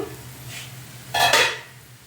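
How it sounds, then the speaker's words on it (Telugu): A lid set onto a pan of raw banana slices frying on low heat, a brief metallic clatter after a faint clink, with a soft sizzle running underneath. "ఇప్పుడు నేను మూత వేస్తున్నాను"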